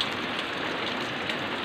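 Steady rain falls on a Sunday morning after starting around 3 AM, a constant even hiss of drops on surfaces with no voices.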